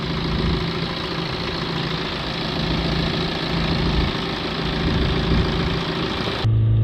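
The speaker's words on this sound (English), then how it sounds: "Now I'll just run the last quarter of a litre in here with the engine running." A BMW 525d diesel car engine idles steadily nearby, a constant low rumble with a faint knocking texture, running alone without interruption until it shifts near the end.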